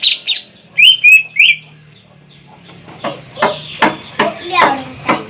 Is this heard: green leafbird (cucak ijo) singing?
yes